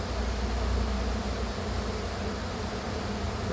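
Honey bees swarm around an opened backyard hive, producing a dense, continuous close-up buzz that stays loud and even throughout with no talking.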